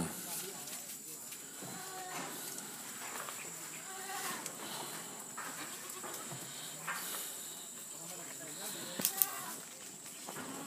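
Goats on a farm bleating several times at irregular intervals, fairly close, with people talking throughout and a couple of sharp knocks near the end.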